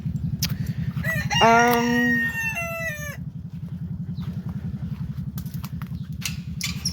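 A rooster crows loudly once with a long rising call over steady, rhythmic clucking and low murmuring from a flock of chickens close by.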